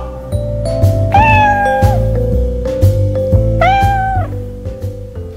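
Two drawn-out cat meows, loud and close, over a bouncy musical backing with a steady beat.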